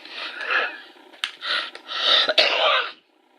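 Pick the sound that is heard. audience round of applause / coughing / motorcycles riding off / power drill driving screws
coughing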